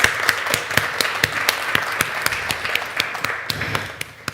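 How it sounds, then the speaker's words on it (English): A gallery audience gives a warm round of applause for three leaders at a women-in-live-music event, an even wash of clapping with a few sharper, closer claps standing out, steady for the whole stretch. "I'd like to give a warm round of applause to those three leaders that we see on the screen"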